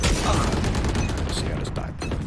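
Valorant gunfire rattles in a dense, loud burst of rapid shots, with bullets striking and denting a wall that cannot be shot through; the impacts blur together into continuous crackling noise.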